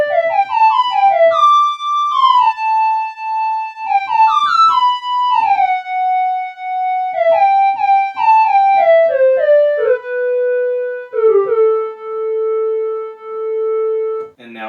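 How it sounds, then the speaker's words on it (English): A solo Arturia Prophet V synthesizer lead plays a gliding melody, notes sliding between pitches with smooth portamento, clear and upfront with brief pauses between phrases. "We're going to start with the Arturia Prophet V, which is where I initially programmed this sound."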